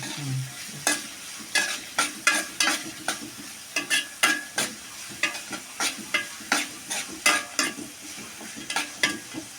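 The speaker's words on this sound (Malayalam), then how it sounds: "പച്ചമുളകും കറിവേപ്പിലയും കുറച്ച് ഇഞ്ചി നന്നായി മൂത്ത് വരട്ടല്ലേ" Green chillies, curry leaves and ginger fry in a pan for wheat rava upma, a steady sizzle under repeated scraping strokes of a spoon stirring at a regular pace, close and moderately loud, with no talk.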